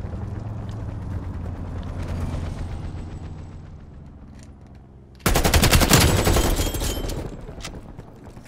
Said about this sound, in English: Enemy sentry turret detected in your AO.